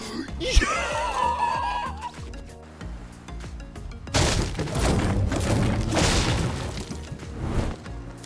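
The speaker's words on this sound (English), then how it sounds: "Who's shooting the grenade launcher?" Grenade launcher fire and explosions in the video game Fortnite: a sharp thump early on, then a stretch of loud, rumbling blasts layered under shouting and laughter from players.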